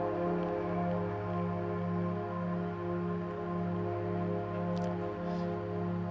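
Layered dark ambient synth pads hold sustained, slowly pulsing low chords with faint airy shimmer on top, soft and steady with no voices.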